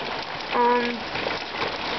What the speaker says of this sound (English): You can see when it hits the puddles.